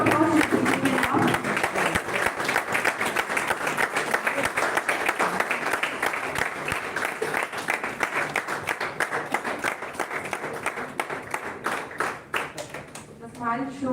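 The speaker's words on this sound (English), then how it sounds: "Round of applause is given now." An audience at an inauguration ceremony for an oratory contest claps steadily and fairly loudly throughout, with voices briefly audible at the start and end of the applause.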